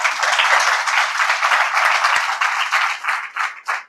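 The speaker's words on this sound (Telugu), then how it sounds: "క్లాప్స్ కొట్టండి, చప్పట్లు కొట్టండి." A church congregation claps and applauds loudly and steadily, a dense wash of hands that thins into a few separate bursts toward the end.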